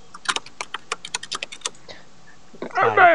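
Rapid keystrokes on a computer keyboard, a quick irregular run of crisp taps over about two seconds, followed by a louder burst of another sound at the end.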